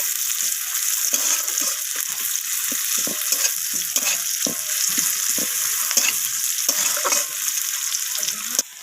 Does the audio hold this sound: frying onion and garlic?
yes